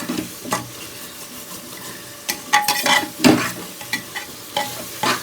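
Onion masala frying in oil for prawn biryani is stirred with a utensil, giving repeated scraping strokes against the pan over a steady sizzle, close and fairly loud, with no talk.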